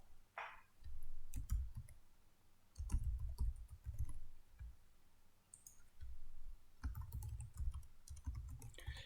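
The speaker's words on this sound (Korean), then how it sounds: "직접 이렇게 클릭 하셔서" A computer mouse clicks on a webpage in short, sharp clusters with pauses between them, close and fairly faint, and no speech.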